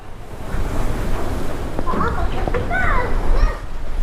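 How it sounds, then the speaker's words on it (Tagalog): Strong wind buffets the microphone at a beach in Rosario, Batangas, a continuous low rumble with surf, while people and children talk over it. "Oh, malakas ang hangin."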